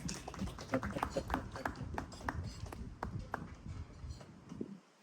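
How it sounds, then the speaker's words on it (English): An audience claps to welcome Brian Omondi, a CPA and CFE, to speak at a talk event, with scattered sharp claps over a crowd murmur and voices that taper off toward the end. "let's welcome him with a round of applause"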